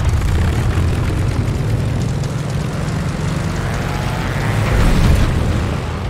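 A propeller fighter plane at full takeoff power in Call of Duty: Vanguard's Battle of Midway, heard as a loud, steady engine roar with a deep droning rumble that swells slightly near the end, with no voices.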